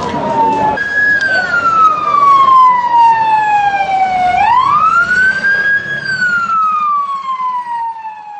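A fire engine siren wails loudly and close as it arrives at a restaurant fire in Aydın, Turkey, its long pitch sweeps falling and rising again over traffic noise, with faint voices beneath.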